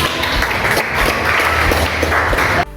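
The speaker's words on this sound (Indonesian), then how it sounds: "tepuk tangan buat teman" A classroom of students claps for a classmate after a presentation, a steady, dense patter of many hands that fills the room and then cuts off abruptly near the end.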